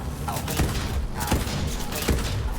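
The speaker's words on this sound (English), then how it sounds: "It does fire rather slow, but it is a shotgun, so what do you expect?" In Borderlands 3's shooting range, a slow-firing shotgun booms three times at roughly even intervals, each blast sharp and punchy over a steady background bed of game noise.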